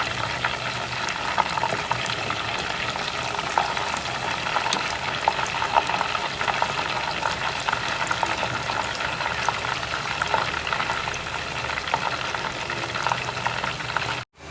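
Chicken pieces sizzle and fry steadily in hot oil in a wok, a loud, continuous crackle with no talking, cutting off abruptly at the end.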